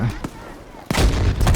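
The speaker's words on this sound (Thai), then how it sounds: "ระเบิดลงมาแล้ว" Two sharp, heavy bomb blasts go off in Battlefield V, the second louder and followed by a lingering rumble, with brief percussive bursts between.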